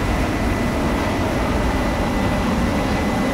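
A Me 262 jet fighter in the World of Warplanes game gives a steady, loud, unbroken engine roar with no talk over it.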